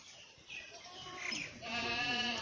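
Goats bleating at a goat-farming exhibition, a loud, wavering, nasal cry that swells and rises in pitch, heard up close over background noise.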